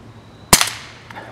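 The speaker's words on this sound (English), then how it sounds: "Probably the last Colibri. They don't make any bang, so they're not quite as fun." A quiet Colibri .22 round fires from a homemade rifle barrel made from rebar, giving a single sharp, brief pop with a short fading tail and no big bang.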